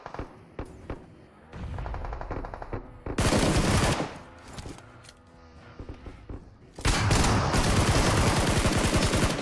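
Video game gunfire in a competitive shooter match: bursts of rapid automatic shots and single cracks, loud and close, with sustained full-auto stretches in the middle and toward the end, under light voice chatter.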